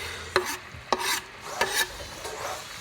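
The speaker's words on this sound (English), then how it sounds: "I'll go ahead and add my minced garlic" Minced garlic sizzles in a white wine and butter reduction in a pan, with a few distinct scraping stir strokes over a soft, steady bubbling.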